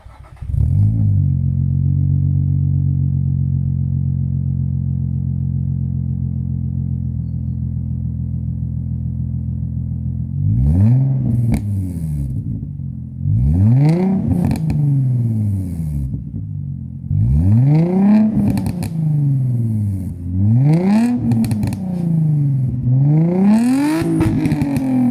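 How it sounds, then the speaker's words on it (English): A Nissan 350Z with a Japspeed K1 catback exhaust, Y pipe and silencers removed, idles with a deep steady drone, then is blipped through a series of sharp revs that rise and fall repeatedly, loud and close. "what we are currently running on the back of the 350Z is a Japspeed K1 catback exhaust with an NVIDIA Y pipe, which, with the silencers out,"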